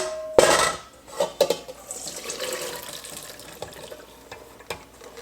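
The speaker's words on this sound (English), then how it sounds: "I'm going to strain this." Boiled water from a pressure cooker pours and splashes as cooked ingredients for vegetarian shami kabab are strained, with sharp metallic clanks of pots and utensils at the start and scattered clinks as the liquid drains.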